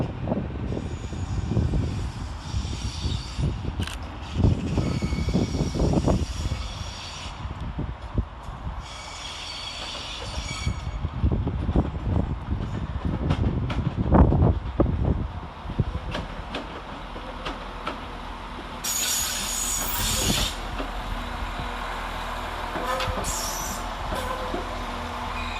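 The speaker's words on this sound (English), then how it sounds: "Arriving to terminate with a West Midlands Railway service off Nuneaton is 196006." West Midlands Railway train 196006 pulls into Leamington Spa station to terminate after a run from Nuneaton. Close wheel clatter and engine thrum come in uneven bursts, broken by high, shrill squeals of brakes and wheels toward the end.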